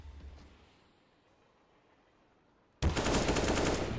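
Loud, dense burst of automatic gunfire erupts near the end of a Counter-Strike match on the Train map, following nearly three seconds of quiet, faint background.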